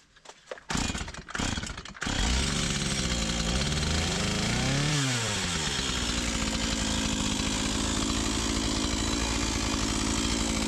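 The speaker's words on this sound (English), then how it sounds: "Let's bring out the chainsaw." A chainsaw roars to life after a few sputtering pulls, then runs loud and steady close by, its pitch briefly revving up before settling.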